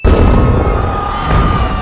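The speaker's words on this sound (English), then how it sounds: "Domino explosions." A loud, deep movie explosion sequence rumbles and roars continuously, dense and booming as chained blasts roll into one another.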